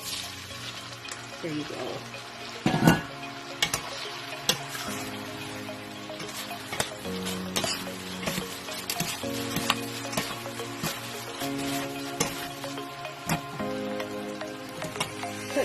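Drained pasta tossed into a pan with guanciale for a sundried tomato pasta, with steady close frying sizzle and sharp clatter and scraping of stirring throughout, plus a brief spoken remark.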